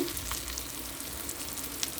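Asafoetida drops into a sizzling spice tempering for moong dal soup, a steady close frying hiss with light crackles and a brief stir, no talking.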